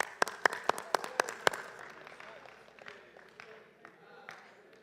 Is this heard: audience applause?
yes